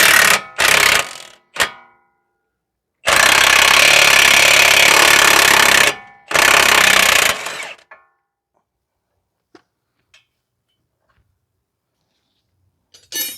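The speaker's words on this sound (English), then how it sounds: "You want to make sure you are removing the nut and not the bolt when you are loosening it." An impact wrench loosening a strut nut on a 2015 Toyota Sienna AWD 3.5: loud, close rattling bursts, two long runs of about three seconds with short spurts before, then near silence with a few faint clicks.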